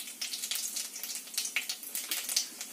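Nigella seeds fry in hot mustard oil in a heated wok, giving a steady, fairly quiet crackling sizzle with rapid popping bursts throughout.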